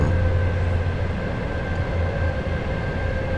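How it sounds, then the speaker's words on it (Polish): An EU07 electric locomotive in the SimRail train simulator game runs steadily with a loud, constant low rumble and a sustained electric hum, with no talking. "Lokomotywę EU07."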